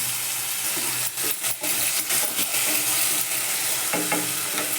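Potatoes sautéing in hot oil in a pan for sabudana khichdi, with continuous loud sizzling and intermittent scraping stirs of a spoon against the pan, nobody speaking.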